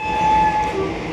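A passenger train runs along with a steady rumble and a sustained whistle-like tone on top, heard from on board for about a second without talk.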